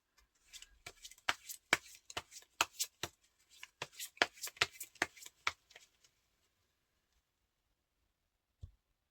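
Tarot cards are shuffled close up in a quick run of crisp riffles and slaps for about six seconds, then a pause and one soft final tap as a card is set down.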